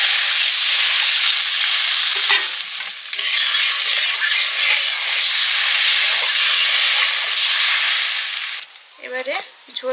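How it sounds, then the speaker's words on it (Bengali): Fish curry broth bubbling hard in a pan, a loud, close, steady hiss and sizzle with stirring scrapes, fading near the end as a voice briefly speaks. "এবারে ঝোল ফুটে গেছে,"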